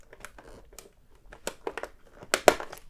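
Scissors cut a Spider-Ham toy figure out of its plastic blister package, producing close crunching snips and crinkling plastic in uneven bursts that grow louder toward the end, with no talking.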